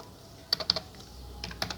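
Several quick keystrokes tap on a computer keyboard while Python code is entered, in two short clusters of soft, close clicks in a quiet room.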